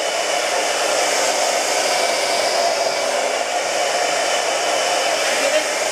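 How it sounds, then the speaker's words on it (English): A hair dryer blows continuously at a steady pitch, a close and even whooshing hiss with no pauses. "I'm going to take my blow dryer and I'm going to blow dry that part."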